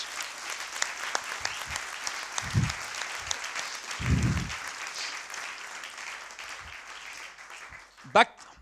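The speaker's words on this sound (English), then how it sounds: "So a round of applause for those guys." Applause from a Pecha Kucha audience, a soft scattered clapping wash heard at a distance with a few low thumps and a brief loud sound near the end.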